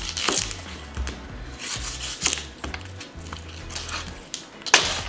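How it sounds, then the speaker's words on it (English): A knife rough-chops yellow onions on a board, producing irregular close knocks and scraping thuds at an uneven pace, with a sharper hit near the end. "now we're gonna cut some 2 yellow onions. Now these are gonna be rough chopped."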